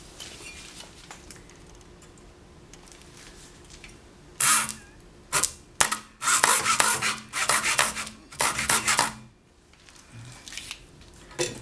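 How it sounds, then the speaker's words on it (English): A hacksaw cuts a shallow groove into the glued spine of a book block, bursts of rough rasping strokes in quick rhythm, close and fairly loud after a quiet start, no voices. "Now I'll take a hacksaw and I'm going to hold this vertically and saw in a groove just about the depth of my fingernail"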